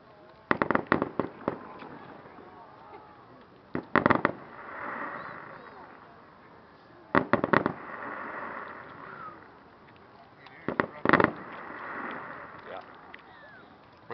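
Several clusters of loud Canada Day firework bangs in Saskatoon crackle in rapid bursts, separated by pauses with echoing rumble and low chatter between them.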